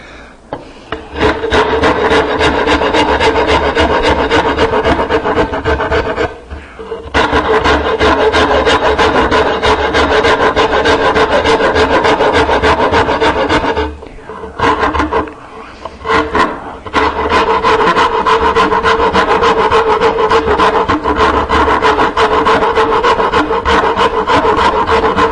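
A Nicholson cabinet maker's rasp files wood in fast, loud, rhythmic rasping strokes, near and continuous, with short pauses around the 7 and 14 to 17 second marks.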